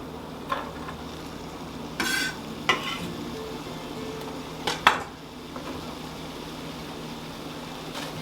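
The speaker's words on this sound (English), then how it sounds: "I'm going to toss in my meat, and I'm going to toss in the onions" Meat and onions hit hot oil in a pot for Hungarian goulash, giving a steady low sizzle under a few clinks of utensil against pot and scattered stirring knocks, close by and with no voices.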